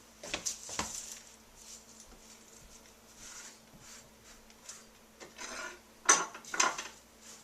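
A wooden spoon scrapes and clunks around a pot of beer stew with garlic, soft scattered knocks and rubbing strokes, quiet and close, with a few sharper taps near the end.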